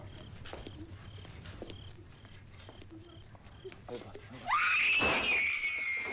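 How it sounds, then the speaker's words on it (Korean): A frightened girl lets out a sudden loud, high scream near the end, rising sharply after several seconds of quieter background sound and faint movement. "소녀는 시시때때로 발작적인 고함을 질러댑니다"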